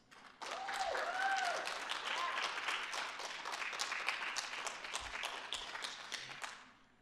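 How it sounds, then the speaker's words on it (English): An audience at a city State of the City address gives city staff a round of applause, a sustained, fairly distant patter of many hands that fades toward the end. "Can we give the aforementioned staff a big round of applause?"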